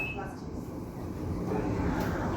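Adelaide 4000 class electric train, a steady low rumble of the railcar interior with a constant broadband hum and faint squeal tones, no distinct events.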